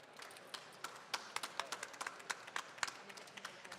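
An audience at a UK construction business pitch competition stage in London gives a round of applause for the headline sponsor, a faint, scattered patter of claps with irregular sharper hits, fairly distant and quiet throughout.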